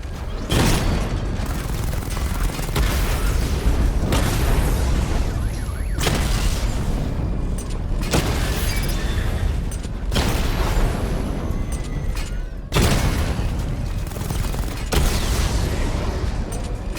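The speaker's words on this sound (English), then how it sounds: "Charge the missile barrage to level 2 to destroy up to 4 targets at once." Missile barrage explosions in Batman Arkham Knight, a steady run of loud, close booms about every two seconds over a dense mechanical rumble, with no speech.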